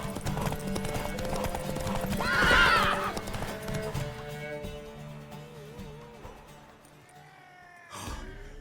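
A horse whinnies loudly amid steady clip-clopping hooves over a soundscape from The Witcher 3: Wild Hunt, with a brief snort near the end.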